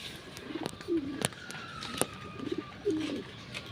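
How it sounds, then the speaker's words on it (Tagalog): Pigeons cooing nearby in short, soft throaty bursts, a few separate coos spread across a few seconds, with sharp clicks and light background noise between them. "Ito naman ito yung mga kalapatids."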